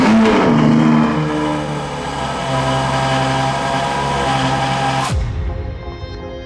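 A Ferrari 488 with a Novitec straight-pipe exhaust revs hard, close and loud. Its engine holds a strong, raspy drone that rises and falls for about five seconds before the throttle snaps shut and the note drops into a rumbling idle.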